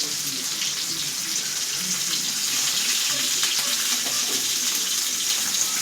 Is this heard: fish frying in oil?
yes